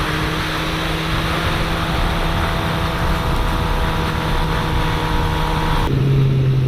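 A 2016 Suzuki GSX-R 750 sport motorcycle roars steadily at speed on the road, its engine tone and wind rush sustained and loud with a shift in pitch near the end.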